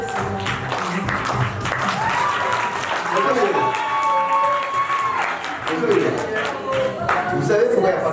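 Applause for the bride and her witness at a French wedding, a steady crowd clapping and cheering throughout, with an announcer's voice and music running over it.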